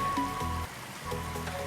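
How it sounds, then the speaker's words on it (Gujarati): Heavy rain falls in a village as floodwater from a burst pond rushes past, a dense, continuous hiss of water, fairly loud and without speech. "વરસાદ જોઈ રહ્યા છો મિત્રો, ફૂલ પાણી જાય છે, જોઈ શકો છો."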